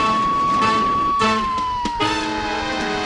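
Siren of a police car in a stunt for the film Naked Gun 33 1/3, leaping an electrical fence outside a dinosaur theme park; a loud, steady wailing tone that slowly falls in pitch, with engine and crash noise beneath.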